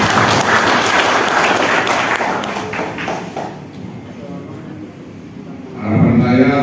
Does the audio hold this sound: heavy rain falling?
no